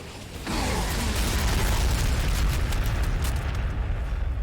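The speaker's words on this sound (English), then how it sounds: "let's just fire some artillery in" Artillery shells land and explode in the Warhammer 40,000: Sanctus Reach battle with the Space Wolves, a sudden loud impact that swells into a sustained, rumbling roar of blasts and debris.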